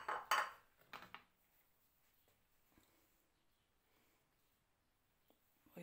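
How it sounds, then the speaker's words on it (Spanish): A knife chops raw prawns on a cutting board in a home kitchen, cut small for stuffed eggs: a quick cluster of close, crisp clacks at the start, then near silence with a faint tap at the end. "Voy a cortar los langostinos."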